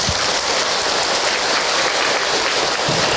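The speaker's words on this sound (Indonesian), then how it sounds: "Tepuk tangan untuk Ahilman Ibu." Dense, steady audience applause at an Indonesian religious talk on marriage, a continuous wash of clapping lasting a few seconds.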